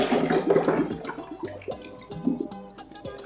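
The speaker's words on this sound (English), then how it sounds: "now what I'm gonna do is I'm gonna strain the cassava" Water draining through a strainer as blended cassava is strained while making fufu, a close gurgling, splashing pour with scattered drips and trickles, no voices.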